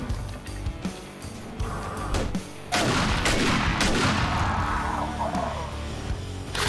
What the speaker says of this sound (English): just to be able to hold your finger down on the shotgun